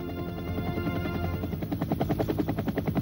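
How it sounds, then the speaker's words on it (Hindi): A helicopter passes overhead in a Hindi television drama scene, its rotor producing a rhythmic thudding pulse that grows stronger and more distinct toward the end. "ये तो हेलीकॉप्टर की आवाज है"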